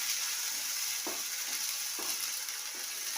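Spices frying in oil with ground pea pod paste hiss in a continuous bright sizzle, with periodic soft scrapes of a spatula stirring through, close and steady with no talk.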